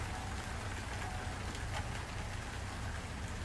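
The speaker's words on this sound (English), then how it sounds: "it's still raining with the sun out" Rain keeps falling while the sun is out, a continuous, fairly close shower of drops forming an unbroken hiss with no voices over it.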